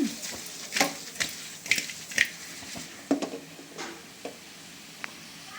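Spinach frying for palak paneer, a soft sizzle under a series of scraping stirs and light clinks of a spoon against the pan, close and moderately quiet.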